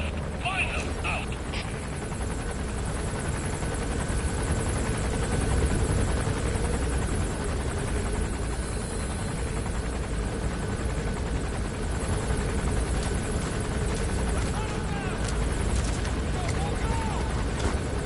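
Helicopter rotor chopping in the video game Metal Gear Solid V, a steady whirring drone that holds throughout with in-game radio chatter heard briefly near the start.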